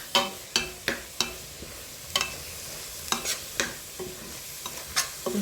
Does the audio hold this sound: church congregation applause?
no